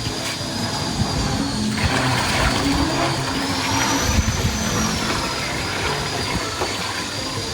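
Batik wastewater poured into a 15-litre treatment machine's reactor tank, a steady rushing, splashing pour that lasts throughout, heard up close over a constant mechanical hum.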